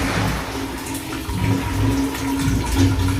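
Water runs into a household geyser tank during rainy weather, a steady, fairly loud rushing flow close by throughout, with no voices.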